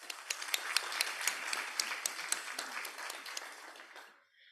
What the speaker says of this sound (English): Let's give Dr. Chu a round of applause.